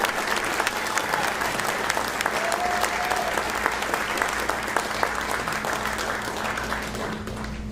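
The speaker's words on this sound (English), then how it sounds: "Nice round of applause." Concert audience at a fingerstyle guitar festival applauds after a performance, a steady, dense wash of clapping that holds evenly throughout with a few faint voices underneath.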